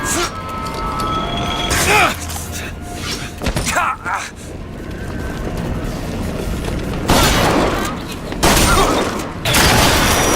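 Rockets explode in BioShock Infinite, with several loud booming blasts and crashing debris spread across the stretch amid heavy combat noise and scattered gunfire.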